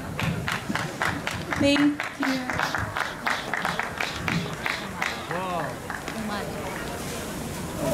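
An audience at a Chinese Family Day community event applauds a performing group, with steady clapping and crowd noise filling the room while a presenter's voice comes through over it.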